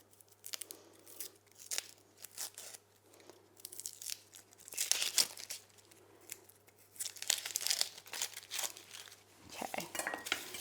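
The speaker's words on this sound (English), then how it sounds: "we're just gonna take off the top layer and peel that" Shallots are peeled in a kitchen, their papery outer skins torn and crinkled in close, irregular bursts, with a few light clinks of dishes between the rustles.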